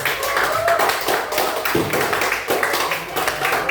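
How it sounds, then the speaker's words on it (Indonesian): Classmates in a school lesson give a group dense, steady clapping that runs throughout, with some voices underneath. "beri tepuk tangan untuk kelompok 1 sudah."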